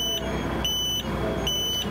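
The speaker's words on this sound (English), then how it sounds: "The sound of beeping eggs filled the air" Repeated high-pitched electronic beeps in short bursts from beeping Easter eggs at an egg hunt for children with vision loss, pulsing at a steady rhythm over a low background hum.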